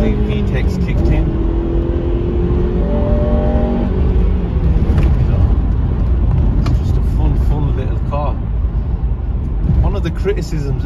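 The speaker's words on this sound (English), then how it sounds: "let's drop it down a gear. Let's give it some. So yeah, as you can see, VTEC's kicked in." A Honda Civic Type R FN2 engine pulls hard after a downshift, revs climbing sharply as VTEC engages, heard from inside the cabin while someone talks over the rising, then easing, engine note.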